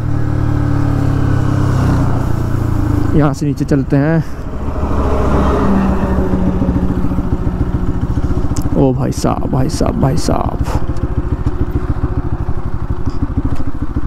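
A motorbike engine runs steadily while heading downhill toward a U-turn on a dirt track, its continuous drone close and loud beneath excited talking and shouting.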